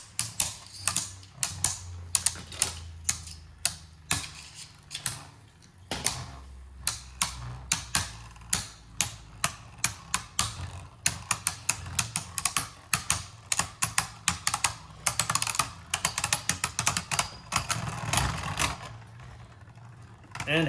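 Beyblade Burst spinning tops clash in a stadium, with rapid irregular clicks and metallic taps of the tops colliding through the whole stretch while a person talks over the battle.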